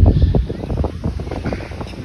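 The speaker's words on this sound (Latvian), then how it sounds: "Vējš tagad paliek ar viens stiprāks." Strong wind gusting at the seaside, a steady rumbling roar of buffeting across the microphone with waves faintly beneath, loud and continuous throughout.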